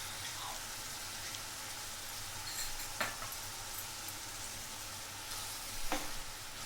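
Green chilies and chili powder sizzle in hot oil in a pan, a steady rain-like frying hiss, with two or three louder spoon scrapes from stirring.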